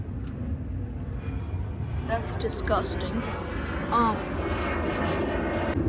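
A Bissell Cleanview Helix vacuum cleaner runs with a steady, loud, airplane-like roar that fills the clip, while a person talks briefly over it.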